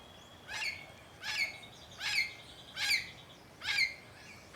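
Parrots squawk in five sharp, evenly spaced calls about a second apart, fairly close and clear over a quiet background, with no talking.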